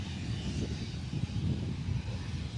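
A steady, low airplane engine drone at an airport in Arkansas holds throughout, fairly distant and even, with no talking.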